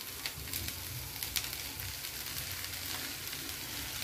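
Small shrimp sizzle and fry in a pan with bottle gourd peel, a steady dense crackle throughout with occasional sharper pops and light stirring, close and continuous with no voices.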